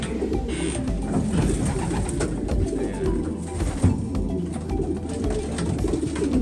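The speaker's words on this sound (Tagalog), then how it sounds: "Ayan sila mga kalapatid." A breeding loft holding many pigeons, their low cooing overlapping in a steady, dense murmur throughout, close by with no talking.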